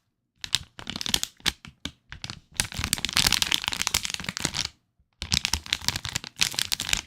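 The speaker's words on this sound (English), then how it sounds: "And then you guys can hear the bag." Crinkly chip bag handled close to the microphone for ASMR, with bursts of sharp rustling and crackling that come in irregular clusters and pause briefly, heard alone.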